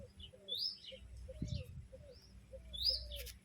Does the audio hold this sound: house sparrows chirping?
yes